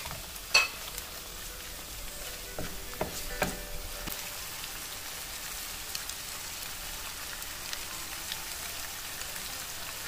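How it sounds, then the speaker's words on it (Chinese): Shredded chicken, beef and pork stir-fried together in a wok, making a soft, steady sizzle with a couple of sharp clinks early on, then an even, quiet crackle. "现在放入鸡丝、牛肉丝和猪肉丝3个丝放在一块炒。"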